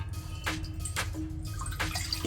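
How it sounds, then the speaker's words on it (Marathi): A single glass of water splashes and pours steadily into a pan for egg curry in a short burst, with a few brief louder sloshes. "एकच ग्लास पाणी ओतायचं ह्याच्यात"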